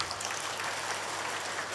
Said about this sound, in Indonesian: mau tepuk tangan dulu